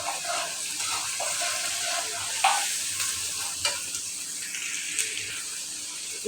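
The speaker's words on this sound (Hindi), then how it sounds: "लहसुन अदरक की यहाँ पे ही भुनाई होनी ज़रूरी है" Ginger garlic paste frying in a pan for beef qeema, a steady soft sizzle with occasional stirring scrapes and clinks, moderately close, no talk.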